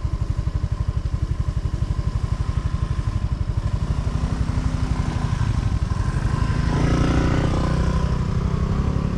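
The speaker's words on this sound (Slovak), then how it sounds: "A hejde motorkár." A motorcycle rumbles loudly close by on a jungle road on Koh Chang, Thailand, its steady pulsing engine growing fuller and louder as it rides past.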